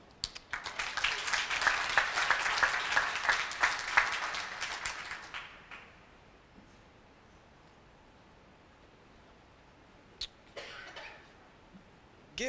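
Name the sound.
applause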